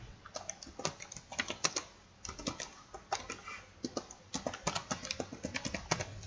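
Quick irregular clicks and taps of a computer keyboard being typed on, close and fairly quiet, in short bursts with brief pauses.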